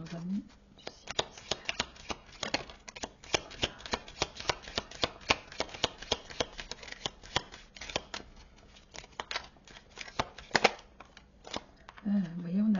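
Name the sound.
shuffling tarot cards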